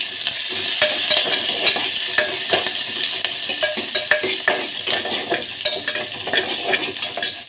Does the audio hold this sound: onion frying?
yes